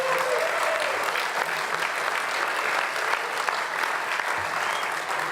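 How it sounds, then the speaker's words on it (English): An audience at Santa Monica's 2018 State of the City event claps steadily in a dense, sustained round of applause that holds at an even level throughout. "Give these folks another round of applause."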